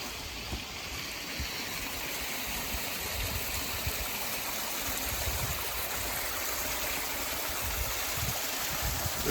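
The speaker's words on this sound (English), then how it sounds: "The rocks, the water cascading." A stream cascades over rock formations along a wooded trail, giving a steady, close rushing and splashing of water that stays even throughout, with no talking.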